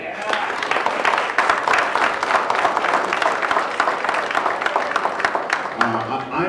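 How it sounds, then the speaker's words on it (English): A conference audience at a Black men's conference in Calgary applauds steadily, dense clapping filling the room with scattered louder claps and a voice briefly audible near the end. "a big round of applause for that."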